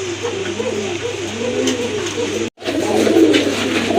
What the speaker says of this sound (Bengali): হ্যাঁ অনেক বড় সাইজের কবুতর